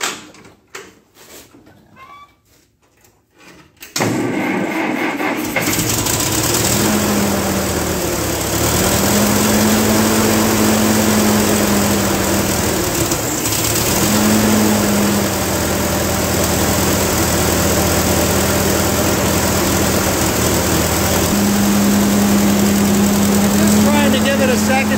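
A 1949 Ferguson TE20 tractor engine with a running fault starts up after a few seconds of faint knocking, then runs loudly and steadily, its drone rising and falling slightly as the revs change.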